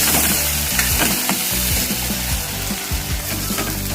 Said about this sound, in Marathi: आपण आता काळं तिखट वाटण चांगलं तळून घेऊ